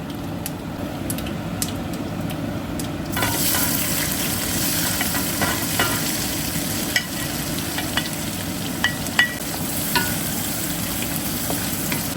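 Cumin seeds fry in a pan for a pumpkin dish, a steady low sizzle that grows denser partway through, dotted with small crackles and pops under a faint hum.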